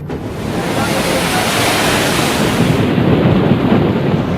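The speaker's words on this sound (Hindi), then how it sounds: "जिस वक्त अम्फान ने दस्तक दी, समंदर में ऊंची ऊंची लहरें उठने लगी।" High sea waves whipped up by Cyclone Amphan along the Odisha coast make a loud, dense, continuous roar of surf and wind that fills the whole stretch without a break.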